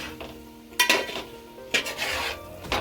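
Paneer is gently stirred in a pan with a spoon, giving a few distinct scraping clinks and soft rubbing sounds, close up, with quiet gaps between strokes.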